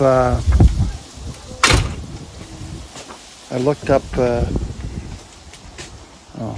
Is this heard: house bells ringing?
no